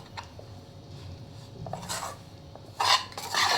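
A spoon scrapes and stirs dry jhunka mixture as it roasts in a pan. Soft rasping strokes come in short bursts with quiet gaps, and the strokes grow louder toward the end.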